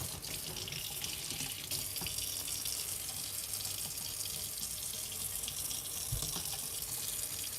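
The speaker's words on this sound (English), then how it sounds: "Get some warm water in here." Warm water pours from a tap into a container, a steady close splashing gush that runs continuously without pause and with no voices, heard while making butter.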